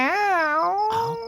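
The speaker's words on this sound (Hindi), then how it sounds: "साला बिल्ली ने भी परेशान करके रखा है।" A cat gives one drawn-out, wavering meow at night, close and loud, rising and falling in pitch before trailing off, with no talk over it.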